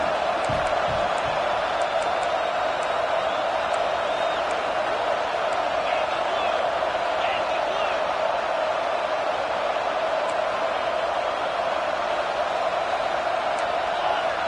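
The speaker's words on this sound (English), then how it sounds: "And with this place rocking, the crowd forces a false start." A college football stadium crowd roars during a Colorado at Cal game, a dense, loud, continuous wall of cheering noise that holds steady throughout with no breaks.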